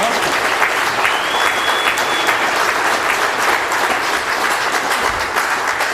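Evening audience giving a racing driver a round of applause, loud sustained clapping from a large crowd, close and even throughout, with a faint whistle rising briefly.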